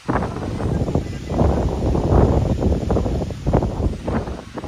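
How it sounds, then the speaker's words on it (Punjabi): Strong wind roars and gusts across the microphone in uneven surges, loud and continuous throughout, during a rainstorm over paddy fields. "ਦੇਖੋ ਕਿੰਨੀ ਤੇਜ਼ ਹਵਾ"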